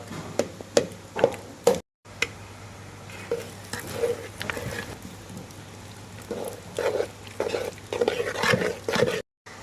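Boiled cassava being mashed with butter and coconut milk in a pot for a Kerala-style dish: repeated close, soft thuds and wet stirring scrapes in an uneven rhythm, with brief silent breaks.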